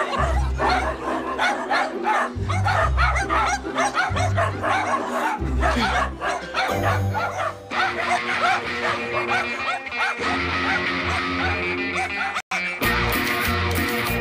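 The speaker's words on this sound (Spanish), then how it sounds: "paremos aquí, que justo están los perros" Dogs barking in a street in La Botota, heard as repeated barks and yips within a dense, loud mix of music and ambient noise throughout.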